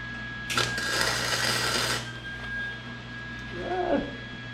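A tack weld on a Power Wheels Gator build. It is a single harsh buzzing burst of about one and a half seconds over a steady electrical hum, followed by quieter shop ambience and a faint murmur near the end.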